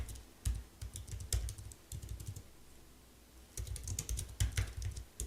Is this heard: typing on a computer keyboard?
yes